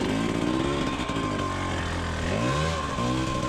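A dirt bike engine pulls hard uphill at Jawbone, loud and close, its revs rising and falling in uneven sweeps as the throttle is worked over rough ground.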